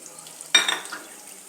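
Black pepper and chillies hit hot oil in a pan for Tamil ven pongal tempering, a sudden close sizzling burst that crackles loudly, then fades to a softer steady fry.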